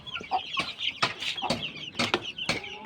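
Hens and small yellow chicks clucking in short, uneven bursts close by, a few sharp peeps standing out, with no voices over them.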